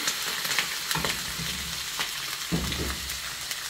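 Mushrooms sizzle steadily in a frying pan while being cooked for a chicken pizza, a constant bright crackle with a few soft stirring scrapes and thumps.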